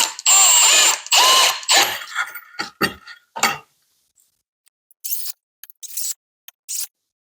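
Power drill driving screws through floor flanges into a 2x4, heard as close bursts of whirring and grinding of varying length, followed by short, quieter spurts after a pause.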